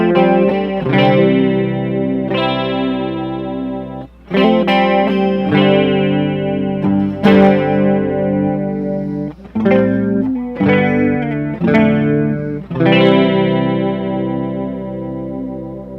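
Electric guitar played through a Gulf effects pedal in its normal setting, ringing chords and picked notes with distorted, chorused tone, steady and loud with brief pauses between phrases, no voices.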